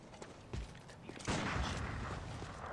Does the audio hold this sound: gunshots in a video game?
yes